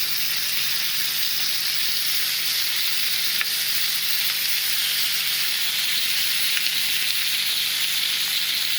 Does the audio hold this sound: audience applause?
no